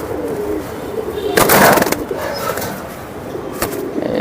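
Soft, low pigeon coos repeat close by over a steady background hum, with a couple of brief rustling bursts, from silver Bezi, Pankhi and Hammer breed pigeons.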